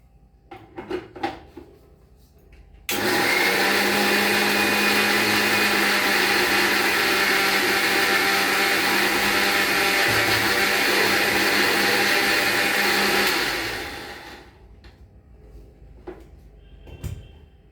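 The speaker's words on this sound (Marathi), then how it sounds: "आता मी हे मिक्सरमधनं" A mixer grinder blends watermelon with a little salt for juice, a loud steady whirring motor running continuously for about ten seconds before winding down, with faint kitchen clatter before and after.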